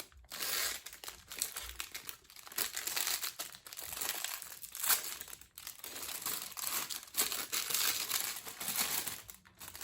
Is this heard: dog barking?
no